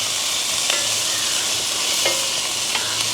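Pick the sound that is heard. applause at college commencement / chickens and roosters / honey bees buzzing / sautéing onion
sautéing onion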